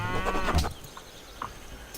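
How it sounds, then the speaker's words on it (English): Livestock cattle sounding in the video game Civilization 5, a single short harmonic moo-like animal call up front followed by faint quieter game ambience, no speech. "Cows."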